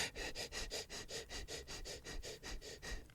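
Quick, shallow breaths repeat in a fast, even rhythm, close to the microphone, a person imitating tense, short breathing with no words.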